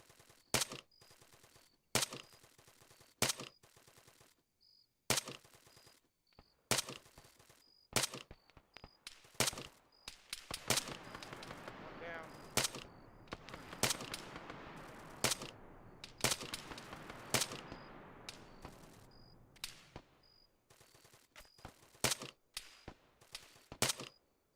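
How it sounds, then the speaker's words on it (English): Sharp, isolated gunshots ring out one after another in a military shooter, with a heavier stretch of sustained firing in the middle, the shots mostly loud and separated by quiet gaps. "Hear shots."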